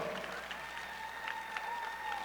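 Applause from the audience at a high school commencement continues for graduates' parents, a soft, fairly distant patter of clapping with a low steady hum beneath it.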